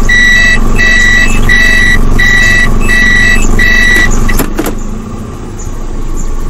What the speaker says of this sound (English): When putting it in reverse, there are also rear parking sensors to point.